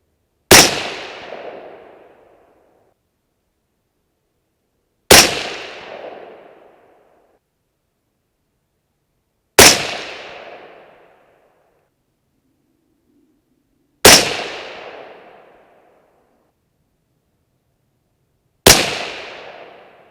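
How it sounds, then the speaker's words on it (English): Five single 6.5 Creedmoor rifle shots fired on an overcast, breezy range, each a sharp loud crack with a short decaying echo, spaced about five seconds apart with silence between. "Okay, let's keep shooting. There's 5 more in the magazine."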